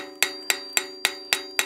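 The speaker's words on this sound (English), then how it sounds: "I'm hammering in the bevel of the edge of the sickle." An iron sickle blade's edge bevel is being hammered, giving six evenly spaced, sharp metallic strikes with a bright ringing tone, close and alone.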